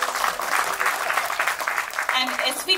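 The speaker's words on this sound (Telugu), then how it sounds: "ఒకసారి గట్టిగా చప్పట్లు ఈ సాంగ్ కి." A crowd at a film teaser launch event applauds a song with dense, sustained clapping, fairly distant and even throughout, with a few voices faintly mixed in.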